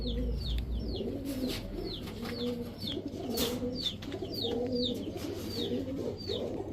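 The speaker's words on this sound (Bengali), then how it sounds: "সব ধবধবা সাদা কবুতর, 3 জোড়া" White Pakistani teddy racer pigeons coo in repeated low, throaty phrases, close and overlapping, with chirpy higher calls scattered between them and a faint constant hum beneath.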